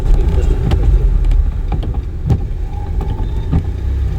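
A learner driver's car pulls away in first gear during a driving lesson, its engine droning loud and close with a low rumble and a slight rise as it moves off. No talk is heard.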